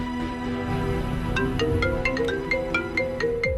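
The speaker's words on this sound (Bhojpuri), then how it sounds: "ईश्वरिया फोन काहे ना उठा रहल बा?" A phone ringtone plays on and on without being picked up, a steady melodic tone with rising and falling electronic notes, fairly loud and close, with nobody speaking over it.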